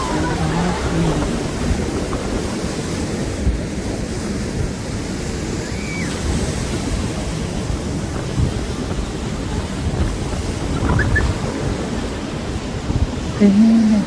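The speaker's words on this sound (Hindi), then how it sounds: "समंदर की लहरें और फिर उसका शोर बहुत ही मज़ा आता है" Sea waves at a beach wash in as a steady broadband roar with wind buffeting the microphone, and brief faint voices come through near the end.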